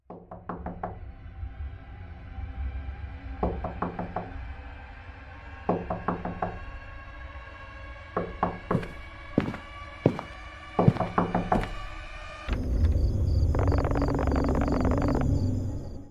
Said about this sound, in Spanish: Billy era quien tocaba la puerta para darnos suministros